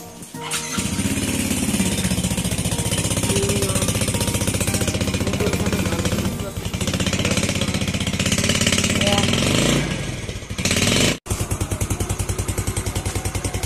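A motorcycle engine idles and revs loudly and close, a steady rattling drone that briefly cuts out near the end before resuming.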